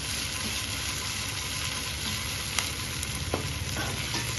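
Crab pieces frying with garam masala powder in a hot pan, giving a steady, dense sizzle with occasional soft stirring scrapes close by.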